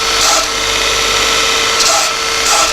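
A surface grinder fitted with a coarse 36 grit belt flattens a steel knife tang, producing a loud, continuous abrasive grinding roar with a steady tone and slight surges as the work passes.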